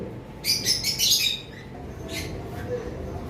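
Young opaline lovebirds, about seven to eight months old, chirp in quick bright bursts at close range, a cluster of sharp calls followed by a shorter squawk, over a low background murmur.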